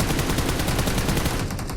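Rapid, continuous gunfire from a video game rattles without a break, a dense and loud stream of automatic shots filling the whole moment.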